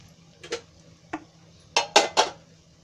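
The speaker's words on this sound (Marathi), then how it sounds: "आता आपण बघूया झाकण खोलून." Metal pan lid being lifted from a pot of fenugreek seed bhaji: a few light clinks, then a quick cluster of louder rattling clatters near the end, close by and without speech.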